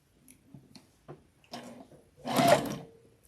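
A sewing machine runs a short back stitch on fabric scraps for a Christmas bowl cozy: a few soft taps and clicks, then one brief, close whirring burst that fades quickly.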